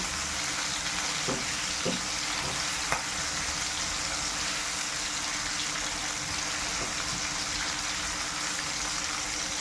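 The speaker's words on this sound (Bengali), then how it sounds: "পেঁয়াজগুলো আমি তেলের সাথে হালকা একটু ভেজে নিচ্ছি।" Cut onions fry lightly in oil over high heat, a continuous even sizzle close by with a few soft knocks and clinks of stirring near the start.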